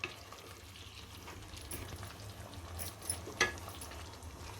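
Prawn masala sautéing in a pan for kolambi bhat, a soft, fairly faint sizzle and bubbling with occasional light clinks of stirring and one brief louder knock.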